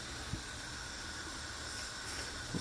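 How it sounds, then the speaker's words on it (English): Beer wort in a brew kettle just beginning to boil, a steady broad hiss with faint bubbling, constant and fairly quiet, with no talk. "as it's beginning to boil"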